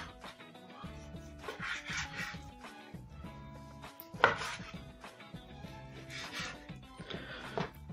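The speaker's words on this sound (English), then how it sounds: "I'm going to cut it into reasonable sized chunks." A knife chopping pork fillet into chunks on a board, a run of quiet, close, rhythmic thuds in short bursts with a few sharper knocks in between.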